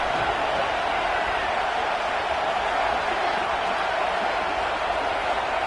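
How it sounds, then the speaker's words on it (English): A stadium crowd at a football game roars in a dense, sustained wall of noise, loud and unbroken, with no clear individual voices standing out. "Listen to this crowd just shaking the girders of this place"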